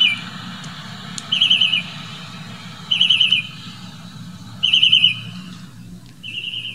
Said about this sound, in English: We got birds chirping away.